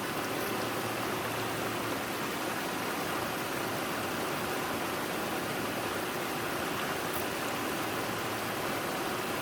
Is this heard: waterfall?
yes